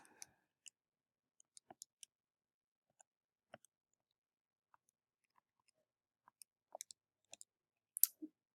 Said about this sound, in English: So when we type that in the calculator